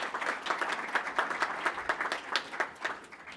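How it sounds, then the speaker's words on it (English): Applause for the evening's sponsors at a student journalism celebration and anniversary event, a steady round of clapping from a modest crowd, fairly close and even in level, with no voices over it. "Please give a round of applause to all of our sponsors this evening."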